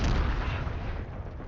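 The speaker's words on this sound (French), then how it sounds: "Bombe collante lancée." A sticky grenade explodes in the Call of Duty video game, heard as a loud, sustained booming roar that fills the whole clip and slowly fades.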